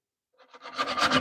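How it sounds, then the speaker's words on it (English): Sandpaper rubbing the lip of a willow wood charcuterie board, a short close rasping scrub that starts softly and builds into steady back-and-forth strokes. "Just sand off that"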